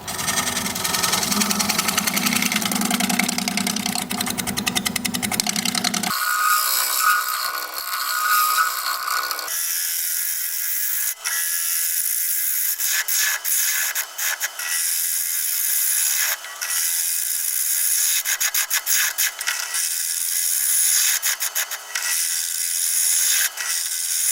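A negative rake scraper works aromatic cedar spinning on a wood lathe, making a loud, close, continuous hiss and scraping rasp over the motor hum, with brief dips and changes in tone as the cut shifts.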